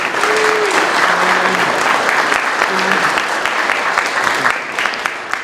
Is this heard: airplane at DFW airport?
no